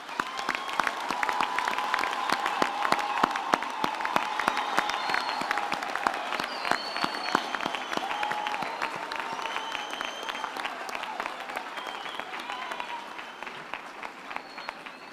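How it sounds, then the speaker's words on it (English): A large crowd applauds graduates at a university summer graduation ceremony, a dense, sustained wash of clapping that holds steady for about fifteen seconds before thinning slightly near the end. "I think we can give our graduates another hand of applause"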